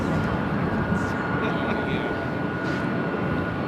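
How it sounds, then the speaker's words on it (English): A Boeing 777-300ER roars down the south side runway at LAX on takeoff, a steady, broad engine rumble with a voice talking over it. "777-300ER, heading back to Tokyo Narita, taking off there on the south side"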